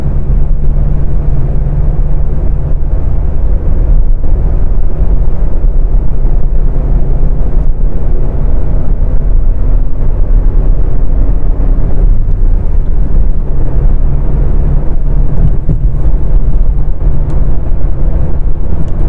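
A Maruti Suzuki Dzire VXi BS6 petrol car accelerating toward 100 km/h, heard from inside as a loud, steady low engine drone and road rumble that holds for nearly twenty seconds with a faint rising tone; no speech.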